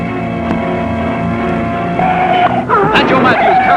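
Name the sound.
1958 NASCAR stock cars racing at Daytona Beach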